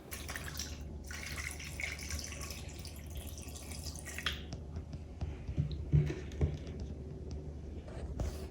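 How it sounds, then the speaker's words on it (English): Water is poured into the bottom of a container holding an amaryllis bulb, a faint, soft trickle with light splashes and occasional small clicks of handling throughout. "I'm just going to put some water in the bottom."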